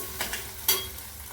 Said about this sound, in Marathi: कांदा झाला आपला छान परतून।